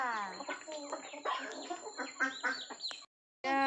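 Chickens cluck and chatter busily up close while being fed rice alongside ducks, a steady flurry of calls that breaks off briefly and then resumes.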